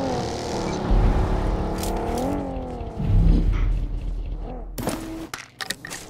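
A car driving in the video game BGMI, a loud engine drone rising and falling in pitch as it accelerates, with a few sharp bursts like gunfire toward the end.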